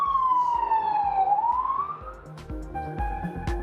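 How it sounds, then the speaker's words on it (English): An emergency siren wails loud and close, sweeping down and back up in pitch while a steady pulsing beat runs underneath, later joined by a second overlapping siren tone. "You're going to hear a siren in a minute"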